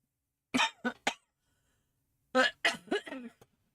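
A person coughs three times in quick succession, then after a pause coughs again in a rougher, longer burst, close and fairly quiet.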